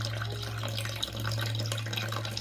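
Tap water runs steadily into a tarantula's small water dish, a continuous close splashing stream under a low hum, with no voices.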